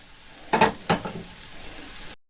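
Two sharp bursts of sizzling as meat patties hit a hot Hascevher pan, followed by a steady, softer crackle of frying before it cuts off.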